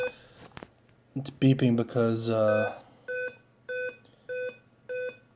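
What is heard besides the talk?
Dell laptop beeping at power-on without hard drive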